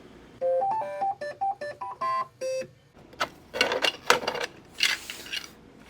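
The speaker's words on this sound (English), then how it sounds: "I was printing the coat rack hooks" A Bambu Lab A1 3D printer printing coat rack hooks gives a run of short musical beeps. Quieter mechanical whirring and clicking of the moving print head follow.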